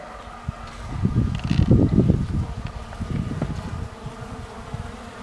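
Close, busy buzzing of honeybees on hive frames, rising and falling in dense bursts, with no voices present.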